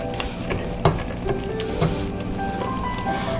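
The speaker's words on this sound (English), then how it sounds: "So you can see the sugar is melting quite nicely here, and you want to constantly stir this because you don't want it to burn." Sugar melting and caramelizing in a non-stick pot, stirred constantly: a steady soft sizzle with scraping spoon knocks and brief clinks, close and alone, with no talking.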